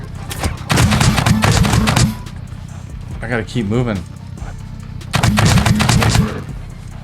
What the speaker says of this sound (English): Oh, I gotta get that base defense on. Yeah, guns, do your thing.